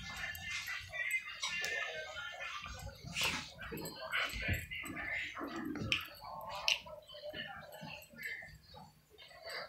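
Dogs playing tug of war, with soft whimpers, huffs and mouthy chewing noises scattered through nearly ten seconds, close by, with people talking in the background.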